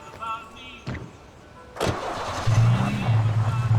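In the game Alan Wake Remastered, a car door thumps and the ignition cranks before the engine catches. It then settles into a loud, humming idle, following a brief stretch of game speech.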